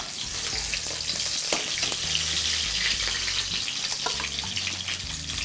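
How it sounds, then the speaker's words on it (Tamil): Curry leaves hit hot oil in a pan and set off a loud, continuous sizzle and crackle with no pause or talk. "எண்ணெய் காஞ்சதும் கருவேப்பிலை போட்டு"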